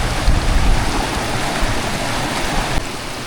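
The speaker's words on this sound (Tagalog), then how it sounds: "Malakas ang volume ng tubig ngayon at napakalinaw." Strong rushing stream water, a dense, steady roar of flowing current close by, with no voices.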